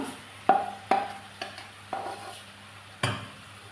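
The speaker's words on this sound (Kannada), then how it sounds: "ಈಗ ಇದಕ್ಕೆ ಮ್ಯಾರಿನೇಟ್ ಮಾಡಿದ ಪನ್ನೀರ್ ಹಾಕುವ" Marinated paneer going into a hot pan and being stirred: a series of sharp scraping and clattering strokes over a faint sizzle, with the last stroke the loudest.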